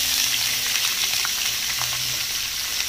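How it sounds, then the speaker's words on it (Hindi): Green onion and carrot frying in hot mustard oil, a loud dense sizzle that stays steady and close, with faint stirring taps underneath. "तो पहले मैं सब्जी को थोड़ा सा फ्राई कर लेती हूँ"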